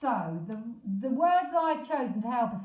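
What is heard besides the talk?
No everyday noise stands out behind the speech.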